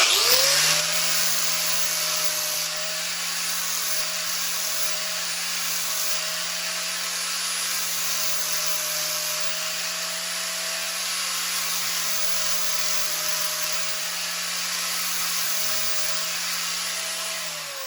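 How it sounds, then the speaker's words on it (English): A power sander whines at a steady pitch, close and continuous, while it cleans the coating off a 1/8-inch steel welding rod, with faint shifts in tone as pressure changes and no speech. "Now I'm going to clean it real quick with my sander."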